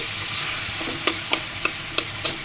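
Drumstick (sajna) leaves stirred in a pan over medium heat: a steady sizzle runs under a handful of sharp, evenly spaced scrapes of the spoon against the pan, close and clear, with no voices.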